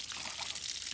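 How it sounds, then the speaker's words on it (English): Water gushes from the top radiator hose of a 2003 Cadillac CTS during a reverse flush, with a garden hose pushed into the bottom radiator hose; a steady, close, hissing splash runs without a break. "I got the water flowing in the reverse direction"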